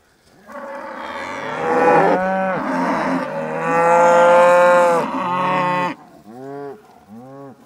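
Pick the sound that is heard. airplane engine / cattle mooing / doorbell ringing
cattle mooing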